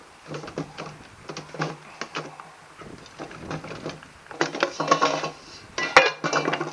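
Metal pots and a frying pan from a Trangia camping stove are handled and set together, producing a run of close, bright clanks and clinks that grows busier toward the end.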